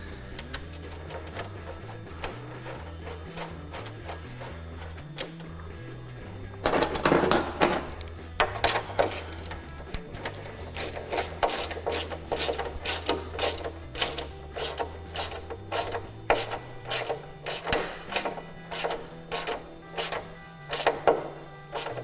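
Quarter bolt being tightened by hand to draw a small recess into a car boot lid panel during a rust repair, giving a run of sharp, evenly spaced ratcheting clicks after a softer mechanical stretch, close and fairly quiet.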